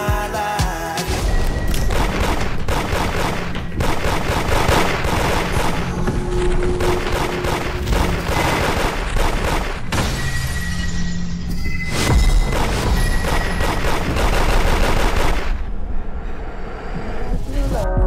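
Dense bursts of gunfire and booming shots crack repeatedly within a loud music track, the rapid volleys layered with beats and a voice throughout.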